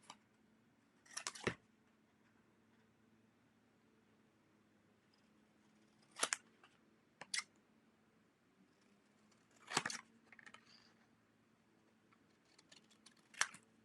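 Scissors snip paper for a scrapbooking project in a handful of short, separate bursts of cutting, near and fairly quiet, with long silent pauses between them.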